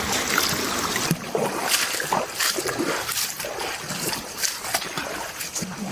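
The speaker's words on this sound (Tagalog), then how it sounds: "Sarap ng tunog ng ilog." River water flowing and splashing near Mt Pinatubo, a steady broadband rush with small trickles and splashes, close and continuous throughout.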